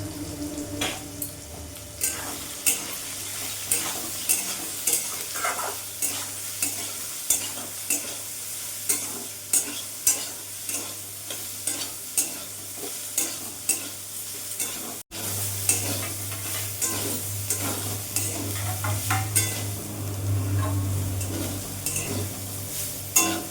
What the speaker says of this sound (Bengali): লবণ আর হলুদ দিয়ে সোয়াবিনটা আমি একটু ভেজে নেবো